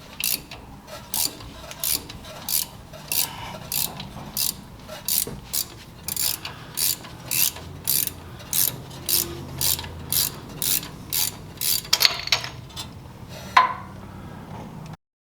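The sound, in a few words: tightening a bolt to pull out a Toyota needle bearing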